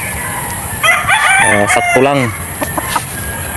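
White Kelso roosters crow loudly nearby with harmonic calls, mixed with short clucks and a few brief voices in the background.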